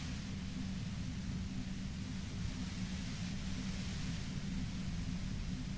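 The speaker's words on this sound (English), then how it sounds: "You hear through the white noise. It's especially bad suddenly." Steady, dense white-noise hiss from the video game Disco Elysium, with a deep rumbling low end and an even loudness that holds throughout, with no voices over it.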